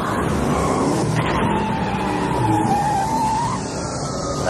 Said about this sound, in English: Hear that? It's his car.